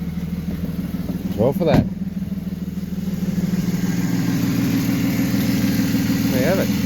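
A 2008 Ford Territory engine cranks with a brief burst, catches, and settles into a steady, close idle drone after a starter motor replacement, with a person speaking briefly over it.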